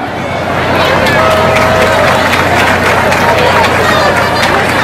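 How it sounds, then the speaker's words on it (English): Applause from a large crowd at an Eritrean festival pageant in Washington DC, honoring the contestants: a loud, steady wash of clapping and cheering with crowd hubbub that lasts from start to finish. "applause to all the ladies that we just saw."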